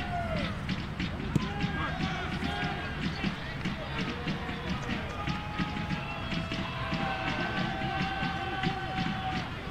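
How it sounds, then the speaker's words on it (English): A soccer crowd at a cold-weather college men's match, Seattle U at Utah Valley, makes steady noise with chatter, stray cheers and scattered claps, heard at moderate distance and continuing throughout. "those faithful who have braved the cold weather have come out, and they're making a lot of noise"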